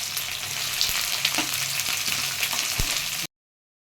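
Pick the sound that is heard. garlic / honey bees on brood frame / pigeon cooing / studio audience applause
garlic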